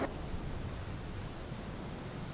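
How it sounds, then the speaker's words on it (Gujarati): Heavy rain pours over Banaskantha in north Gujarat as a dense, unbroken roar of drops hitting surfaces, loud and even throughout with no voices. "બનાસકાંઠામાં ધોધમાર વરસાદ વરસ્યો"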